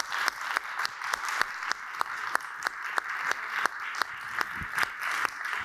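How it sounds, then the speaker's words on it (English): Audience applause for the panellists and speakers at a clinician-scientist event stays fairly quiet and even, with individual claps standing out in a loose, regular rhythm. "round of applause, please, to our panellists and our speakers today"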